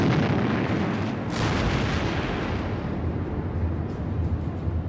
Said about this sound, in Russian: Видно было лишь вспышки и звуки торпед, ударяющих в корабли, и звуки взрывов.